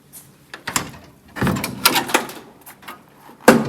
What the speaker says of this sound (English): let's get this door panel off